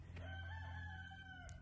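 A rooster crows once in a long, drawn-out call, faint and somewhat distant over a low background hum.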